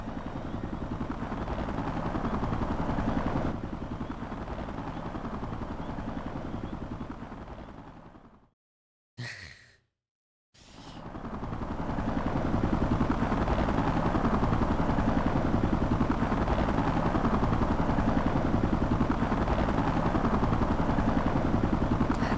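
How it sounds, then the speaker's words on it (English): Helicopter in the video game Xenoblade Chronicles X: a loud, steady rotor drone with a rapid chopping pulse that cuts out briefly midway, then swells back and holds steady, with no talk. "I don't like how much focus they're giving to this fucking helicopter."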